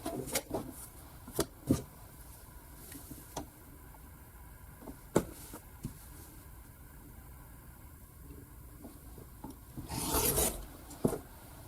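Quilt fabric is trimmed in quiet surroundings, with scattered soft rasps and taps and a longer rustling scrape near the end.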